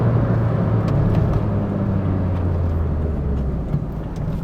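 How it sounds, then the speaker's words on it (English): Peugeot 205 1.9 GTI with a Miltech exhaust, an old hot hatch, pulling uphill: a steady, loud low engine drone with a deep exhaust rumble, close up and continuous, with no talk. "it's a Miltech exhaust, but it sounds really nice, I think."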